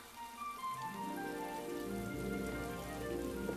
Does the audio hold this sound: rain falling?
yes